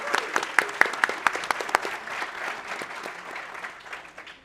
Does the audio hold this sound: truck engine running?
no